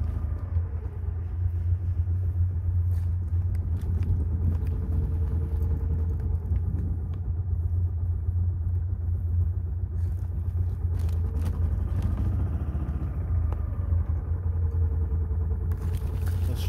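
A Club Car golf cart engine idles steadily after a cold start in about minus 10 degree weather, a continuous close low rumble with no one talking.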